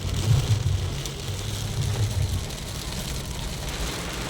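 Steady rain falls during a drive through Puri district on the way from Bhubaneswar near Pipili, a broad hiss with low road and engine rumble underneath, continuous and fairly close, with no talking.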